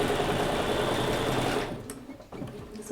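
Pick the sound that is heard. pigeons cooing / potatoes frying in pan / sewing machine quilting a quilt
sewing machine quilting a quilt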